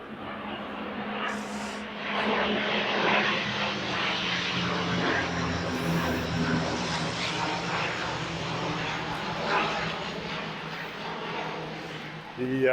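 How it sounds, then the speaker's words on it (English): A low-flying airplane passes overhead on an airport flight path above a park in Regina, a broad steady engine roar that holds for several seconds, with faint voices beneath. "That's the second plane going over low"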